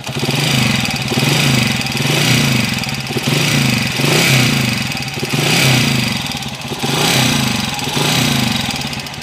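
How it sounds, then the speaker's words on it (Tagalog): A Honda TMX 155 motorcycle engine from La Union running roughly and noisily, revved in repeated swells about every two seconds over a coarse, uneven idle, close to the listener with no talking. "Ayan po yung andar mga kabro."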